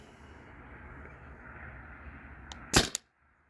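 A Tippmann TiPX paintball pistol on an HPA tank with a stock barrel fires a 3.6 gram nylon ball: one sharp close pop, preceded by a faint click and a low background hum, then silence.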